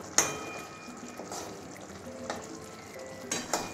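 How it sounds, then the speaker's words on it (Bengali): Garam masala and ghee are stirred into a thick curry in a pan: a soft sizzle with a sharp scrape at the start and a few utensil knocks near the end, no voices. "আমি আবারও ভালো করে একটু মিশিয়ে নেব গরম মশলা আর ঘিটা"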